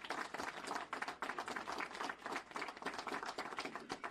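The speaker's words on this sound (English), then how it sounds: "I want to give you a round of applause for that support." Audience applause at a public speech, a close, uneven patter of clapping from a modest crowd, fairly faint and continuous.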